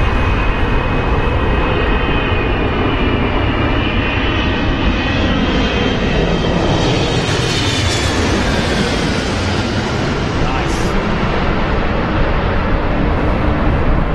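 A United Boeing 777-200ER on short final into London Heathrow in a crosswind, its jet engines roaring loud and steady throughout, with a rising whine of turbines over a broad, continuous rumble.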